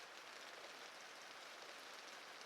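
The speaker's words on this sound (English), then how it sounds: "Outside is rain." Steady rain falls outside a window at night, a soft, even hiss of drops with no voices.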